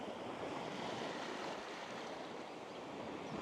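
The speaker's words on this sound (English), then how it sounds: "You can hear the waves" Ocean waves wash steadily onto the sand at Laem Son Beach, a remote beach on Koh Mak, Thailand, a continuous broadband rushing surf with light wind, no voices, fairly faint and unbroken throughout.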